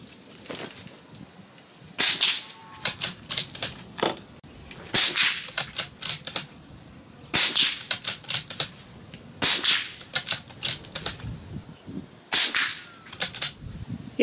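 Repeated gunshots from ammunition being test-fired for point of impact, a series of sharp, loud cracks coming singly and in quick groups with brief pauses between volleys.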